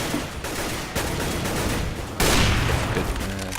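Gunshots in a Counter-Strike: Global Offensive match crack in quick succession, with sharp separate reports and then a louder, denser burst of fire near the end.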